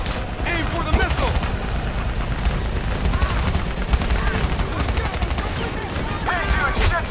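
Call of Duty Black Ops 3 combat on PC: dense, near-constant automatic gunfire and rapid bursts crackle loudly throughout, with voices talking over the shooting.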